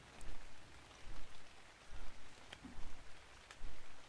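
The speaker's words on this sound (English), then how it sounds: "I normally hate ARK rain, but this is... It just feels relaxing." Rain falls steadily in the survival video game ARK Ragnarok, over an alpine forest, as a soft, continuous patter with faint scattered droplet ticks and no voices.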